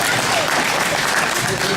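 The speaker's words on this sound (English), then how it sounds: "Let's give another round of applause." Audience applause at a Red Lake College graduation ceremony in 2011, a steady, dense wash of clapping filling the hall throughout, with faint voices mixed underneath.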